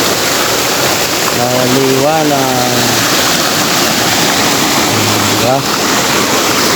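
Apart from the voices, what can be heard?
flowing water at camp stream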